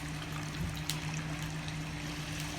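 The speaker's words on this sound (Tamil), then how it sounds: "தண்ணியை நிறைய ஆட் பண்ணுங்க." Water poured into a pan of karamani (lobia) bean curry with sautéed tomato and green chilli, a steady, continuous splashing trickle close up, alone without talk.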